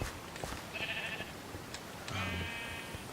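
Sheep bleating in a farm pen in a video game, two separate bleats with a short pause between them, fairly clear and alone over a quiet background.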